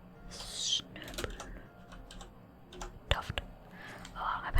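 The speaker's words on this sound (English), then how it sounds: "please excuse the sound of my keyboard" Computer keyboard typing while crafting in Final Fantasy XIV: scattered clicky keystrokes in short bursts, close and fairly soft, with quiet whispering in between.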